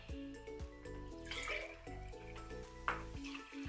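Milk poured into pancake batter makes a quiet, steady liquid trickle with small splashes close by, faint under a background tonal hum and without speech.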